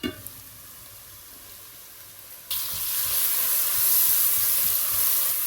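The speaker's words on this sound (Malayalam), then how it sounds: "ഉള്ളി നല്ലതുപോലെ വഴന്ന് വന്നിട്ടുണ്ട്" Onions sizzling in a pan for soya chunks masala, a steady close frying hiss that swells louder partway through as more heat or stirring kicks in, with no voices.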